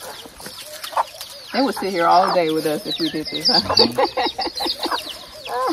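Hens and roosters cluck and chatter nearby in a busy, overlapping stream while a person talks over them.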